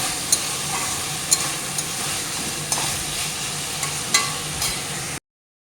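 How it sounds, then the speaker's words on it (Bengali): Paratha fries in a generous amount of oil, giving a steady, close sizzling hiss broken by a few sharp pops and clicks, with no voices. "তো এখানে এখন চলছে পরোটা ভাজা ঠিক আছে আমি একটু বেশি করে তেল দিয়েই এরকম করেই ভেজে নিচ্ছি"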